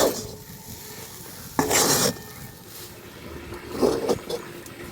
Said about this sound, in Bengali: এইভাবে নাড়াচড়া করতে করতে দেখুন পরপর কিন্তু শক্ত হয়ে যাচ্ছে